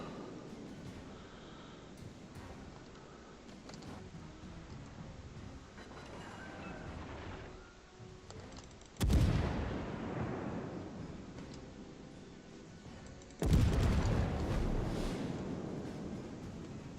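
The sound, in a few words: incoming naval artillery shells in the video game World of Warships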